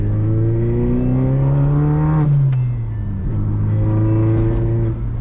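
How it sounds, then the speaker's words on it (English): A Chevrolet Cobalt's turbocharged LNF engine with a ZZP fenderwell intake revs loudly with a rising intake roar, then a quick whooshing bypass valve release as the pitch drops, and it builds up again. "induction noises are really fun"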